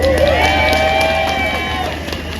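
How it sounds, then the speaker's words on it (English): Crowd at a farmers' tractor rally in Westminster, London, giving a sustained round of applause and cheering, a dense steady wash of clapping with a whistle-like tone over it, fading slightly toward the end. "another big round of applause for Sally Field"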